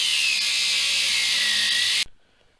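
High-pitched power cutting tool slicing through a stripped bolt on a Jeep XJ, a loud steady whine lasting about two seconds before stopping abruptly into near quiet.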